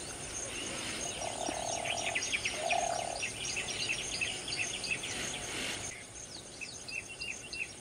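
Bird calls chirp and trill repeatedly over a steady buzz of insects in Yala National Park, Sri Lanka, a dense outdoor chorus at moderate level.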